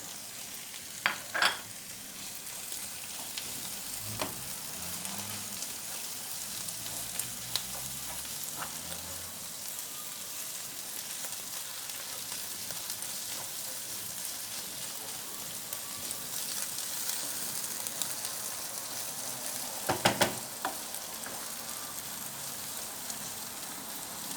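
Onions fry steadily with tomato paste, red pepper flakes, black pepper and salt, giving a constant close sizzle with occasional stirring clicks against the pan.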